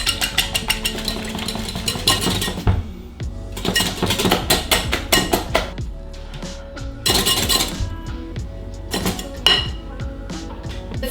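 Egg whites for cloud bread are beaten in a bowl, giving fast, loud rattling and clinking of a whisk or beater against the bowl in long bursts with brief pauses between them.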